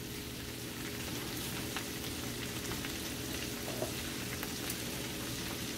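Cabbage frying in a pan, seasoned with salt, gives a steady, even sizzle and crackle with a few faint ticks, continuous throughout and without talk.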